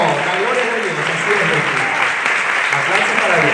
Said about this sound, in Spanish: Un fuerte aplauso y se pone de pie.